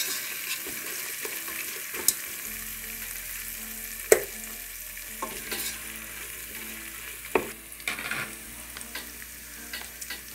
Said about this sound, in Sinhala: මේක විනාඩි දෙකක් විතර මේ විදිහට හොඳින් තෙලේ ටෙම්පරාදු කර ගන්න ඕනේ